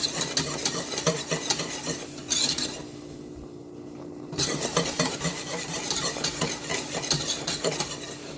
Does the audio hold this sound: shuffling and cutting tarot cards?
no